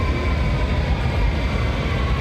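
A Berlin U-Bahn U5 subway train arriving at the Alexanderplatz platform, a steady loud rumble with a faint tonal whine and no voices over it.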